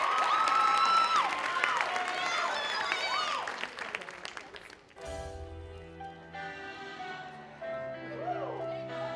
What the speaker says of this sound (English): Go ahead and give them a round of applause and girl power.